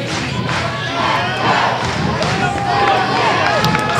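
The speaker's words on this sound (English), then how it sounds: "Crowd is really in it in this game." Crowd cheering at a Central Catholic vs. Sherwood boys lacrosse playoff game, a loud sustained roar of many voices with shouts and thuds, a commentator talking over it.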